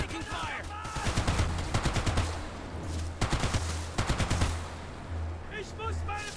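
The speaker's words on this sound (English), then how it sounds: "They're shooting at me!" Gunfire in a WW2 real-time stealth tactics video game: several rapid bursts of automatic fire cracking in clusters, fairly close and loud, with a low engine drone underneath and brief voice lines between the volleys.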